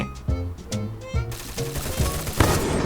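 Gunfire in a shooter video game featuring the character Lyla, heard as a string of sharp, close shots in quick bursts over game music and effects.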